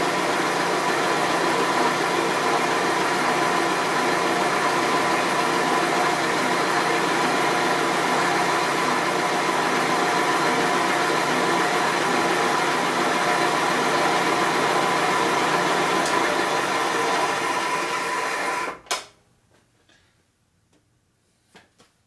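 A machine cuts a 1958–1960 Harley panhead cylinder head in low gear, a steady close whirring drone with a faint ticking, running continuously before stopping abruptly, followed by a few faint clicks.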